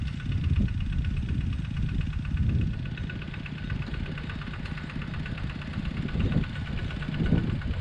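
A large plowing tractor's engine chugs steadily at close range in a rice paddy, with a low throbbing drone and no pauses.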